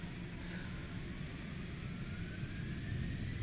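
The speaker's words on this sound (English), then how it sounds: "Lined up runway 27. Going to advance the throttles." Citation X business jet engines spool up as the throttles advance for takeoff on runway 27, a steady, broad roar with a faint rising whine, heard from inside the cockpit.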